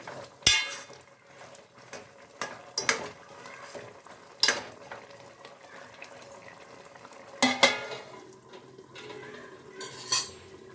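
Pepper garlic chicken chops cooking down in a pan with a quiet, continuous simmer, interrupted by sharp clinks and scrapes of a spoon stirring against the metal every couple of seconds.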